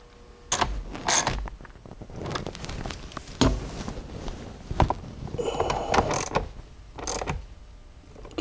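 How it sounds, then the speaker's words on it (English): Bolts being tightened inside a Fox-body Ford during a 5.0L OHV engine swap, heard as scattered ratcheting clicks, metallic clanks and creaks in irregular bursts, close by with no talking. "now I'll go on the inside and finish tightening up the inside bolts."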